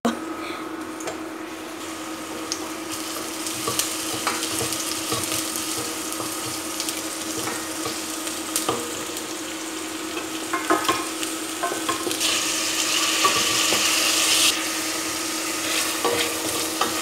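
Food frying and being stirred in a home kitchen, a steady sizzle with scraping utensil clicks and running tap water, with occasional voices in the background.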